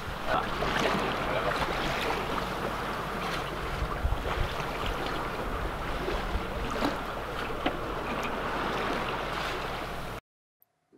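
A sailboat cruises along the Croatian coast toward Korcula. Wind rushes and water slaps against the hull in a steady, full wash for about ten seconds, then the sound cuts off abruptly, with no talking.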